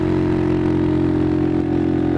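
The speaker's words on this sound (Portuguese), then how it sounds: "Ó, o Dona Inês tá acelerando, rapaz." A motorcycle engine runs steadily at a low, throbbing pitch, close and loud, with no clear rise in revs.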